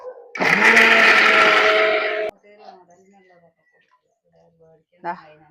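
A mixer grinder whirs loudly for about two seconds as it grinds roasted gram for dosa batter, then cuts off abruptly, leaving faint household sounds and a brief voice near the end.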